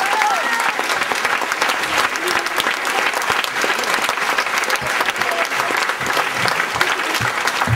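Audience at a Breton Celtic circle dance show applauds the lighting technicians, a dense, steady roar of many hands clapping together from start to finish, with a few voices faintly mixed in.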